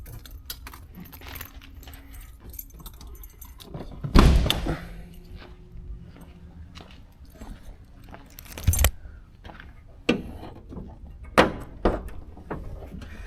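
Keys to a 1973 Chevrolet Caprice convertible jingle and rattle softly in a few short bursts, with a louder thump partway through and scattered handling clatter.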